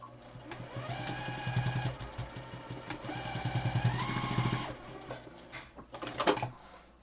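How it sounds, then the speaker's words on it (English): A sewing machine stitches a pleat into an N95 mask, its motor whirring up in pitch through two longer runs, then stopping and starting in short bursts near the end. "So we sewed it down."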